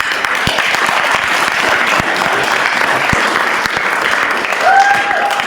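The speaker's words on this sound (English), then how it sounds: "Let's give it up for Asher." An audience claps in sustained applause at a youth club event, a dense, even patter of many hands that holds steady throughout, with a brief high whistle-like tone near the end.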